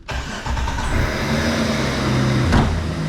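A Jeep Wrangler JK engine turns over and settles into a steady, droning run, with a brief louder surge near the end, close by.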